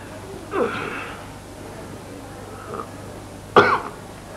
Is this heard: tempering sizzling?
no